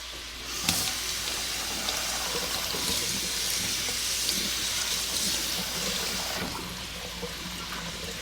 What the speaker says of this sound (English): While the sausage is cooking and browning